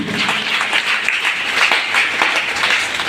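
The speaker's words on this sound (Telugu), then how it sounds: "చప్పట్లు కొడదాం అర్థమైన వాళ్ళు" Congregation applauding together during a Sunday church service, steady dense clapping that fills the room for a few seconds with no talk over it.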